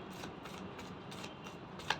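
Tarot cards being shuffled by hand, a quiet rhythmic riffle of repeated soft papery swishes at an even pace, with a small tap near the end.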